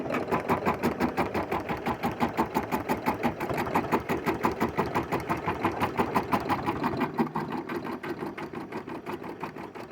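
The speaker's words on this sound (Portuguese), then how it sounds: "Eu vou levar pra máquina e ela vai fazer pra mim um ponto cheio" A sewing machine sews a dense satin stitch, a loud, fast, even run of needle strokes that keeps a steady mechanical rhythm for about ten seconds and eases slightly toward the end.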